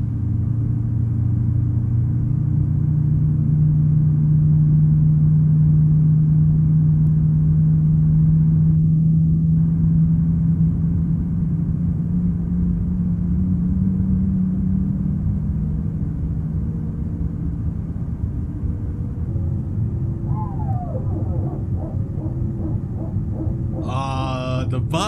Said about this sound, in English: let's get the number 2 engine started up here